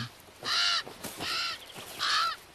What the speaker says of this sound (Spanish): Los polluelos de los cuervos salieron del cascarón hace tres semanas.